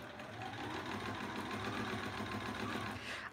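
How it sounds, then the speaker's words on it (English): A home sewing machine stitches a seam on a quilt block, giving a steady mechanical whirr with a fine rhythmic pulse for about three seconds. A sharp knock comes at the very end, and no one speaks. "I'm gonna sew that side and then we'll flip it around and sew the other side."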